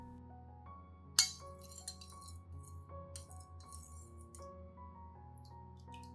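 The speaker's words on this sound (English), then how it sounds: "Add 1 tablespoon of lemon juice to the water and stir well." Spoon stirring a tablespoon of lemon juice into a glass of water, with a sharp clink against the glass near the start, then softer swirling, light rattling and clinking over a steady low hum.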